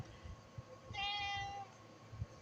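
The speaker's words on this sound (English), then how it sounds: "he's got a pretty distinctive meow from the others, so I kind of recognize his meow when he starts roaring out at me" A vocal male cat lets out a single drawn-out meow, fairly clear and close, over quiet room noise.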